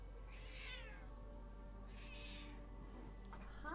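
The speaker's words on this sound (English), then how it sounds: "And here is our thief kitty." A house cat gives two drawn-out meows about a second apart, followed by a brief third call near the end, faint and fairly close against a quiet room hum.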